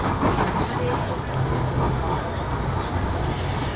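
A Toronto Queen streetcar rolls along the rails from Humber Loop, giving a steady loud rumble and hiss of wheels and car body with no clear breaks throughout.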